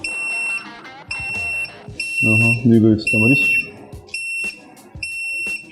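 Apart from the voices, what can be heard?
mould temperature controller sensor alarm beeping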